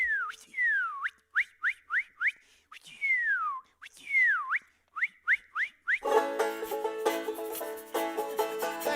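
A person whistles an imitation of a northern cardinal's song, with repeated slurred downward notes in quick bursts, close and clear, and then a full instrumental accompaniment comes in.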